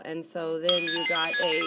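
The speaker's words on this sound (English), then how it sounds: "sorry, that's my phone" A mobile phone ringtone plays in a steady repeating melodic pattern, fairly loud and close, running under someone speaking during a biology lesson.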